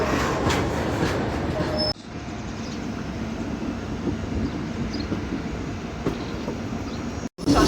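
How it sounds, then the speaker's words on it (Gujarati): A goods train on the Jamnagar–Okha line rumbles steadily past at Rajkot Junction, loud and continuous with wheel clatter and a brief dip near the end. "આજે ગુડ્સ ટ્રેન જાય છે એ છે જામનગર ઓખાવાળી લાઈન"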